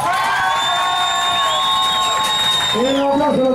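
A crowd aboard the Triton yacht cheers loudly and continuously, with high-pitched whoops and shouts carrying over the sustained roar.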